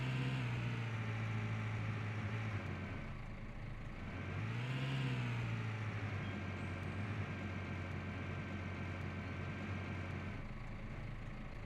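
Engine of a farm vehicle in the Cattle and Crops farming game, droning steadily up close, with one rise in pitch as it revs and accelerates before settling back into an even hum.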